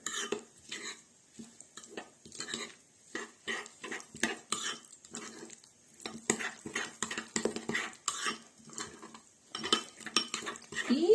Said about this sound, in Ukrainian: зараз ми це розмішаємо